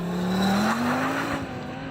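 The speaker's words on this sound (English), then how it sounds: "here's a montage of me launching some internal combustion engine performance cars with their 0 to 60 times" A performance car with an internal combustion engine launches from a standstill, its loud engine note climbing steadily in pitch over a broad roar, close and continuous with no voices.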